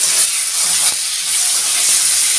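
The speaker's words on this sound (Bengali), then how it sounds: "তেলটা ভীষণ গরম হয়ে গেছে এবার পেঁয়াজটা ছেড়ে দিচ্ছি" Sliced onion fries in very hot oil for an egg curry, giving a loud, dense, steady hissing sizzle heard close and uninterrupted, with faint stirring knocks underneath.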